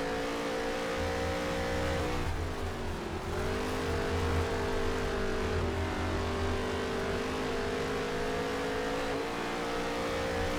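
Race cars on track in the video game NASCAR Heat 3 at Taggart, a continuous loud engine drone with shifting pitch as the car slows through a corner and accelerates again, no talking over it.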